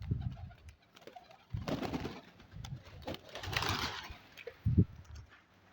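Pet pigeons in a home loft coo in soft, low, repeated calls, with a few rustles and light movements around them, fairly faint and close with no talk.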